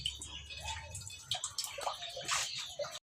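Water runs steadily while food that has been soaked is rinsed and washed by hand at home, with splashing and trickling throughout and faint background voices.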